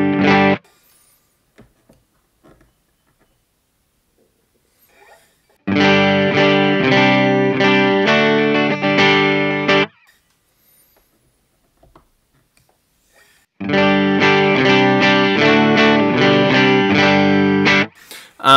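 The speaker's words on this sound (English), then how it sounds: "I'm gonna go ahead and just do the sweep of this top boost with the settings that we have right now" A guitar plays through an amp's top boost channel with distortion, in two sustained bursts of strummed, heavily driven chords separated by a few seconds of near silence with faint handling noise.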